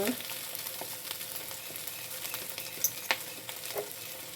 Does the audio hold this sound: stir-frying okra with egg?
yes